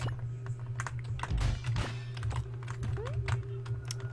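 Rapid clicking and tapping of computer keyboard keys, close by, irregular bursts of keystrokes over a low steady hum.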